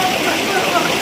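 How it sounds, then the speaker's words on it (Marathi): A waterfall pours with a steady, continuous flow, giving a close, loud, unbroken rushing hiss. "धबधबा गाईज बघा"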